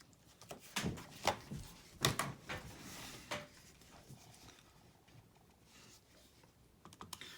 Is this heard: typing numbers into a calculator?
yes